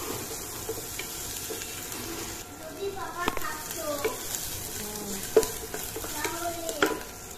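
Onion fries in oil in a pan, sizzling at a low, steady level while someone talks over it. Light clinks from stirring come and go.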